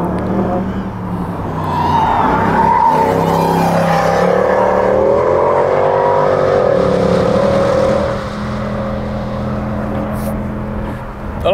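Mercedes-AMG engine on a racetrack, either a C63 AMG or a GT Coupe, roaring steadily as it rises and falls through revs, heard from inside the car with a constant loud rumble throughout.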